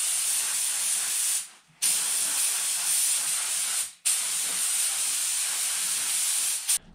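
Clear coat sprayed onto 2019 Honda CRF450R parts in three long, loud continuous hissing bursts with brief pauses between, close to the nozzle, no talking.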